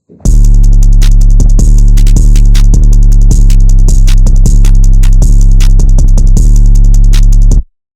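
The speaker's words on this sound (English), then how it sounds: "So the drums sound like this." A loud, punchy drum beat with heavy bass kicks and crisp hi-hat and snare hits in a steady, repeating pattern, no voices.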